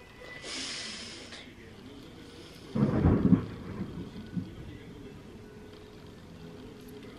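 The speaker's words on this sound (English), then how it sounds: "I hate thunderstorms." A single thunderstorm rumble of thunder, a sudden loud roll that fades slowly into a faint rain-like hiss, heard alone at night.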